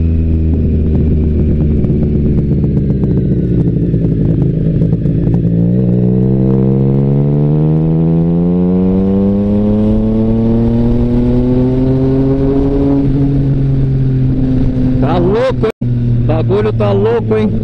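A three-cylinder street motorcycle with a straight-pipe exhaust revs up close and loud, its engine note climbing steadily and holding high, then falling back with a few sharp pops near the end.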